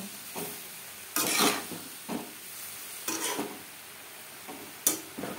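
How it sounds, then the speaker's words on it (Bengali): Fried spices are stirred with cauliflower florets and peas in a pan, bursts of scraping and rustling at irregular intervals over a low sizzle. "ভাজা মশলা ফুলকপি ও মটরশুঁটির সাথে বেশ ভালো করে মিক্স করে দেব"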